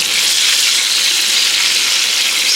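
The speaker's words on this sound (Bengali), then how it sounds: "ডিমটা ভালো করে ভেজে নেবো" Eggs frying hard in a hot pan for a Bengali egg curry, a loud, steady bright sizzle running unbroken throughout with no talking.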